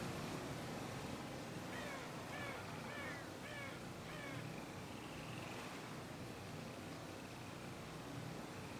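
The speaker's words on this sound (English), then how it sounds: "The bird scared me." A crow caws in Half-Life 2 played in VR, several short harsh calls in a quick sequence over a steady, hissing ambient background, fairly faint and not very close.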